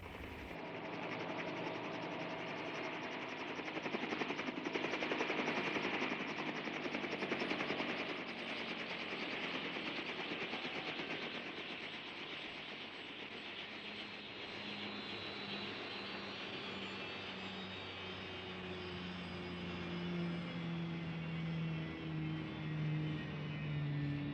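Helijet engines run in the Thunderbirds puppet show, giving a continuous roaring aircraft drone that swells and eases over time while the engine pitch slowly sinks.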